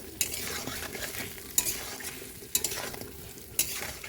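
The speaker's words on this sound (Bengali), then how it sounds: "প্রথমে মাছগুলোকে লাল লাল করে ভেজে নেব।" Prawns fry in hot oil in a pan with a soft, continuous sizzle, broken by three or four sharp clinks of a utensil stirring against the pan.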